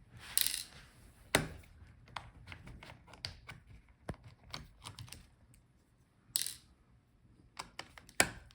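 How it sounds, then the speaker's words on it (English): Screws being removed from an Acer Swift SF314 laptop during disassembly: quiet, sparse metallic clicks and small taps, with a few sharper clinks like screws being dropped or set down, in an otherwise hushed room. "Now take out all the screws."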